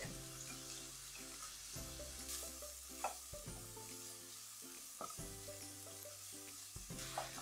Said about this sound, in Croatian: I nasickanu mrkvicu i luk sada samo prebacimo na ovo zagrijano maslinovo ulje.